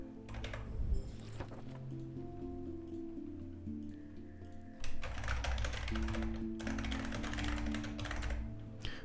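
Someone types on a computer keyboard while playing Quern: Undying Thoughts. Quick clusters of clicky keystrokes come in two bursts, one near the start and a longer run later, over a low hum of game ambience.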